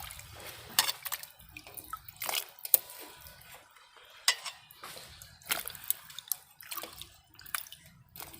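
Mango pieces being dropped and moved in water in a pot, with irregular close splashes, drips and wet clinks against the metal, quiet gaps between them and no talking.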